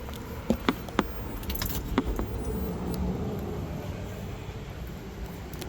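Car keys for a restored 1967 Pontiac GTO jangle in a few quick metallic clinks early on, then fall away into a quiet, low background rumble.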